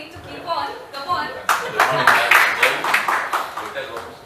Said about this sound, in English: The claps need to keep on.